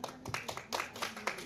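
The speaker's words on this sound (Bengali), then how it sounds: "একটা জোরে হাততালি" Audience hands clap in a brief burst of uneven claps at a Bengali public event, faint and somewhat distant, mixed with a light murmur of voices.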